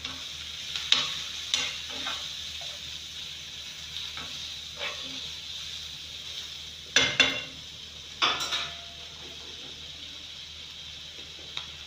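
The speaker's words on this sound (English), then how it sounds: "Then I'll add my tomato inside. My fresh tomato." Fresh tomato fries in a pan, a soft continuous sizzle broken by occasional stirring strokes and a couple of louder clustered scrapes of a utensil against the pan, close by.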